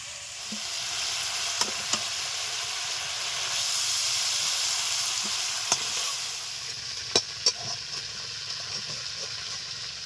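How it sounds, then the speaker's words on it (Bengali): Chicken meat frying in a pan for a Bihari-style chicken curry, with a steady hissing sizzle and steam and a few sharp clicks and taps of stirring, no voices. "পাঁচ মিনিট মতো মাংস ভেজে নিয়েছি তুলে নিচ্ছি"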